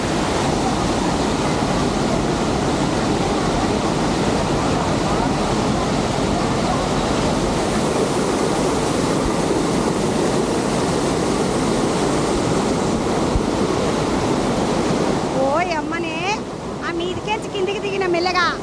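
Water rushes at Pocharam Dam in a constant loud roar that fills the whole stretch, with wind buffeting the microphone and a voice briefly heard near the end.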